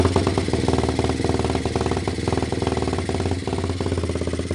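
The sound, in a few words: Kawasaki motorcycle engine running rough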